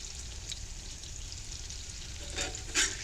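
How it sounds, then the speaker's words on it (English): Apples frying in a cast iron pan on a Coleman camp stove inside a greenhouse, giving a steady soft sizzle with a few faint stirring scrapes near the end. "Fried apples in the greenhouse, cast iron on Coleman stove."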